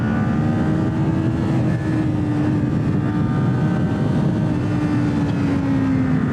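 A Kawasaki Ninja 400 motorcycle engine holds a steady, high-pitched drone while riding on a group ride, with a continuous loud hum and wind noise at close range, no speech over it.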